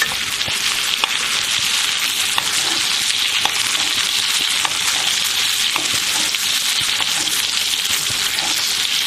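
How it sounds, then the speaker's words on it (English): Steak basting in butter with garlic in a pan over lowered heat sizzles and crackles loudly and continuously, a steady close frying hiss with small pops throughout and no talking. "I'm going to start basting it."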